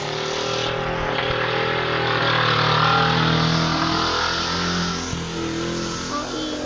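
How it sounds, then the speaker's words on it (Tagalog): Loud motorcycles with modified exhaust pipes roar past in a steady, unbroken stream of engine noise, revving and swelling midway before easing off, with no talk over them. "Sana tanggal na lang ng mga tambuchi yan, mga motor na yan."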